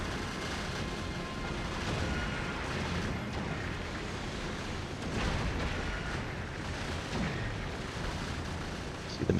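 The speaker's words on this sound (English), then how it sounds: "See the missiles flowing." Missiles firing steadily from a spaceship in Factorio Space Age, a continuous rumbling barrage of launches and distant blasts blending into a dense, moderately loud wash.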